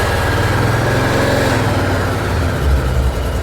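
Big Suzuki motorcycle engine on a cold start, a loud, close, rough, pulsing idle that chugs unevenly and lurches lower toward the end.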